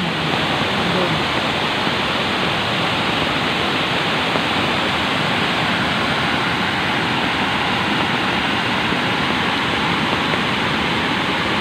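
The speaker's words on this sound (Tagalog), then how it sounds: "malakas yung agos ng tubig." Strong floodwater current from Typhoon Agaton rushes as a loud, steady roar across a road, constant throughout with no breaks.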